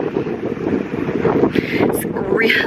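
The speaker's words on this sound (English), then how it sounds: "It's really, really, really, really windy out today" Strong gusty wind buffeting the microphone outdoors at a lakeside resort lodge, a steady broadband roar with brief louder bursts.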